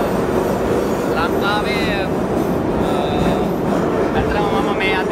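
A Moscow metro train runs with a loud, continuous rumble and rattle, its wheels squealing in short high bursts, while a person talks over the noise.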